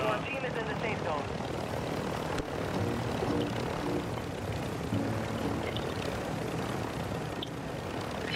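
Helicopter rotor and engine drone arriving in a video game, a steady loud broadband roar filling the whole span, with players talking over it.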